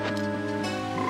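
A frog croaks once in Zelda: Majora's Mask, a short game sound set over steady looping background music.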